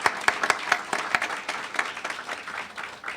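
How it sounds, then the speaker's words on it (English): Audience applause at a Civil Rights Act anniversary event, opening with a few distinct sharp claps that blend into a steady, moderately loud crowd clapping. "I think that alone deserves a round of applause."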